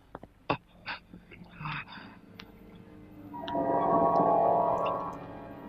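A patient breathes deeply during a doctor's examination in an old Turkish film; a few faint soft clicks lead into a long, loud, breathy rush of air near the end.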